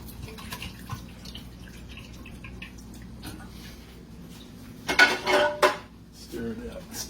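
Tomato sauce is stirred in a pot, with a spoon scraping and clinking against the metal sides, quiet at first, then a loud cluster of clatters near the end.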